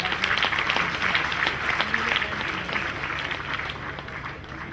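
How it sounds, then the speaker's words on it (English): Steady applause from a large audience at a university convocation ceremony, a dense wash of clapping that holds at even strength throughout and eases only slightly toward the end. "Please increase the clapping."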